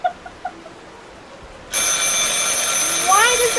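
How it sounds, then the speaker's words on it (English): A telephone suddenly starts ringing partway through, a loud, steady electronic trill that continues to the end after a few soft, faint sounds at the start. "Why does that keep ringing?"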